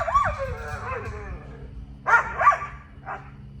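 A dog whines and yips, then gives a few short, sharp barks, with a low rumble in the background.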